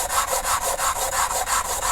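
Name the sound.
hand sanding a piece with 120 grit sandpaper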